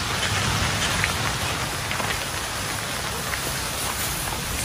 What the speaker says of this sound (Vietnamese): Ôi mưa mưa mưa